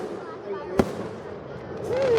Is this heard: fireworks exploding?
yes